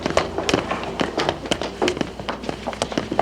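Quarters, about a hundred dollars' worth, spill and scatter across a floor in a rapid burst of metallic clinks and bounces.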